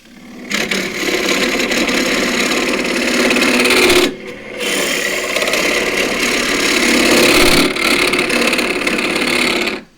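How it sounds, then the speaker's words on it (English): A wood-turning tool chatters against a spinning elm spatula pot on a lathe, making a continuous buzzing rattle that drops out briefly partway through before resuming at the same level. "It's rattling because I can't get my weight over the top of the tool"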